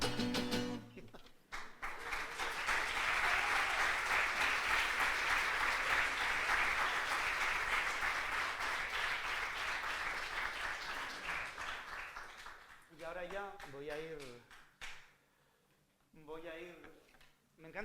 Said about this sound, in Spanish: Me encanta esa persona que aplaude siempre un poco más